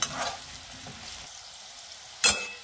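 Potatoes frying to golden brown in a pan for aloo palak masala give a steady soft sizzle, with one sharper scrape or stir near the end.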